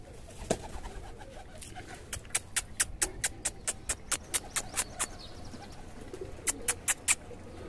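Close-up bird sounds with a run of sharp, rhythmic flaps or pecks repeating in quick bursts; a pigeon-like presence against a faint background hum.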